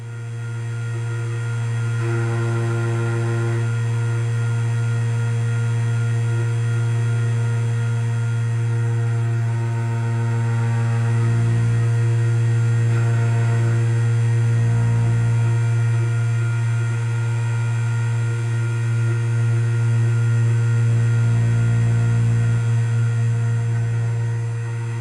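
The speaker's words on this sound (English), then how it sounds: "We've put the key in as stated by the machine, and we're ready to cut the key." Key cutting machine cutting a copy key, a steady loud motor hum with strong low drone running throughout, the grinding tone swelling slightly in the second half.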